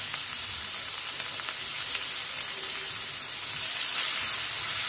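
Chopped onion and garlic frying in oil with panch phoron, bay leaf and dried red chillies for hilsa malaikari, a steady close sizzle and hiss that swells slightly toward the end.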